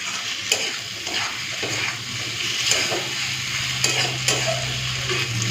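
A spoon scrapes and stirs through a taro stolon and prawn curry in a pan with a few light taps, over a steady close sizzle as sugar is mixed in.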